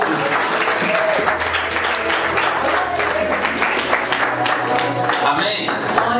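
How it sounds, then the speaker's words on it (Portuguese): A church congregation applauds steadily for several seconds, the dense clapping filling the room, with a few voices calling out over it. "Pode se sentar aplaudindo Jesus."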